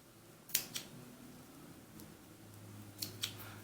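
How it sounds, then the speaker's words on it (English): Scissors snip loose threads from a sewn doll romper, a few sharp, close clicks at irregular intervals in an otherwise quiet room with a low hum underneath. "Let me trim some of these threads off."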